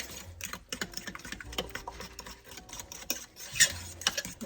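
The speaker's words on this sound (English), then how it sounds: "Now I'm going to get this all stirred around and get it started to heat up." Ingredients seasoned with garlic powder being stirred in a pot for a budget dinner, giving an irregular run of close, scraping and clinking strokes with a few sharper knocks.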